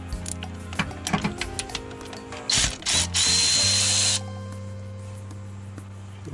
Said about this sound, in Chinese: 现在拆这个，它这里2个螺丝。